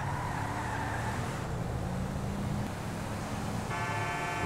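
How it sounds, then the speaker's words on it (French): In GTA 5, a Renault Captur accelerates from a standstill with a steady engine drone that rises slowly in pitch over several seconds, loud and close, with a brief tonal shift near the end and no talk. "Il semblerait que Usain Bolt soit plus rapide que cette bagnole à l'accélération"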